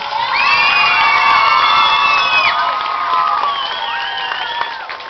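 A crowd at an outdoor gathering beside a winter stadium cheers and whoops with high shouts and children's voices for about five seconds, the sound easing off slightly toward the end.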